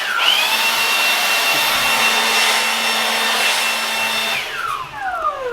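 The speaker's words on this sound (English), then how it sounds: "So thank God for that Milwaukee cordless blower" A Milwaukee cordless leaf blower runs loud and steady, clearing fallen tree debris out of a garage, its high motor whine holding near and continuous before winding down at the end.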